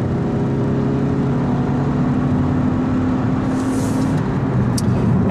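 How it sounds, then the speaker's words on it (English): A 2017 Toyota C-HR 1.8-litre hybrid with e-CVT accelerates, its engine holding a loud, steady drone heard from inside the car, with road noise underneath. "It revs a lot, it's very loud"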